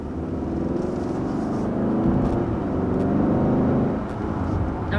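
A 2023 Kia Sorento in sport mode pulls away with a steady, rising engine drone and road hum from inside the cabin, moderately loud and unbroken, no talk.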